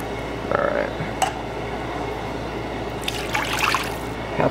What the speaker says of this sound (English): Chicken broth to wash out the rest.